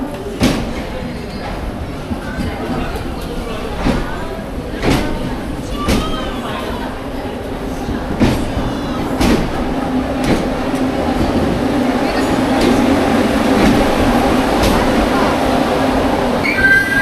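A Vande Bharat train stands at a station platform during a short two-minute halt, with a steady hum of onboard air conditioning, repeated sharp clicks and clunks of doors and fittings, and a murmur of passengers in the background.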